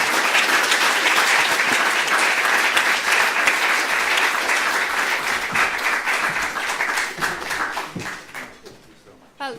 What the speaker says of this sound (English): I would like to ask you for a round of applause for our panelists